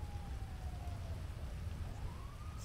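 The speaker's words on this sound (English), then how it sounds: "It's thunderstorm." Steady thunderstorm rain in GTA V, a dense continuous hiss of rainfall with a low rumbling wash underneath, and a faint siren-like tone gliding through the background.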